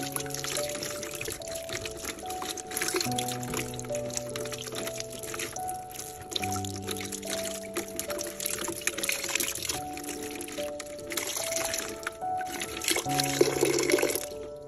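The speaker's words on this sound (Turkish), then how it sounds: "Orkideyi çeşmede bol su ile iyice yıkıyorum." Plenty of tap water running steadily from a faucet while an orchid is rinsed under it, a loud continuous splashing pour with shifting tones throughout and no talking.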